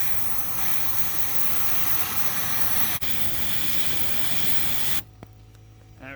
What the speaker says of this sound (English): The fire isn't hot enough on its own, so I have to use the bellows